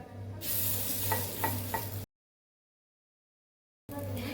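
Vegetable appe batter spooned into hot oil in an appe pan sizzles loudly for about two seconds with a few scraping clicks, then cuts to silence before the sizzle resumes.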